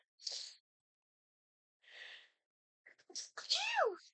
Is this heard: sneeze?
yes